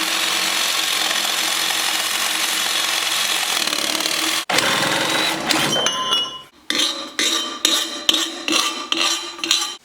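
A power tool cuts through a straight-piped Dodge Viper exhaust pipe with a steady loud grinding whine. It breaks off and then returns in a series of short, repeated bursts as the cut finishes.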